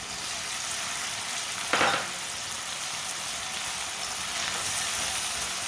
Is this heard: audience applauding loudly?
no